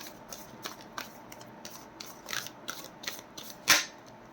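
Tarot cards are shuffled and drawn by hand, with a series of short, crisp riffling and snapping bursts at uneven intervals, and a sharper louder flick near the end, close and alone.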